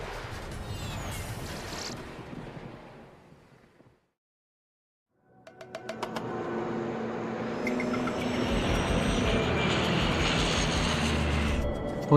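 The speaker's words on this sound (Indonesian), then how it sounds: "Jam 6 pagi, White Star Airways International penerbangan 761 lepas landas dari Bandara Shore." Roar of an airliner's engines during takeoff, loud and broadband, fading out around the middle before swelling back up to a sustained, rising thrust roar.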